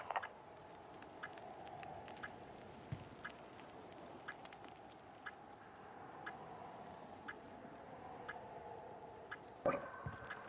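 Planted bomb ticking in a tactical shooter video game, a steady, evenly spaced tick repeating about once a second over a low background hum, with a louder thud near the end.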